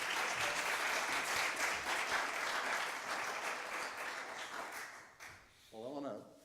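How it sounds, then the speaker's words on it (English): A congregation at a Cherokee prayer day applauds with steady, full handclapping that thins out near the end, where a voice begins to speak. "Let's give him a hand clap, orphans."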